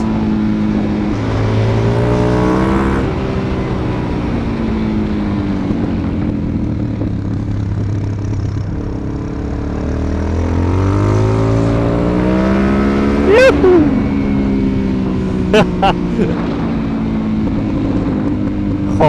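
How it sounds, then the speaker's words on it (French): Suzuki DRZ 400SM single-cylinder supermoto engine, repeated revving rising and falling while riding, with a few sharp pops and crackles on deceleration, loud and close. "Oh, comme ça pétarade."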